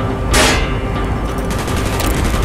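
A loud burst of gunfire erupts near the start in the Call of Duty: Black Ops mission "Executive Order", followed by fainter scattered shots and a rumbling battle backdrop.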